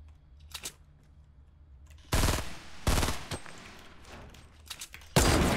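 Fortnite gunfire comes first as a faint distant burst, then as loud, close rapid automatic bursts with short gaps between them, ending in one final sharp volley.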